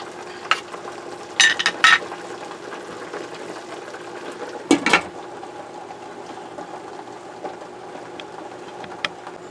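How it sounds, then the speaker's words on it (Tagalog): Chicken, cabbage and tofu stir fry simmering in a pan, a low steady bubbling hiss with a few brief clatters of utensils, close and otherwise unbroken. "Ayan muna natin kumulo."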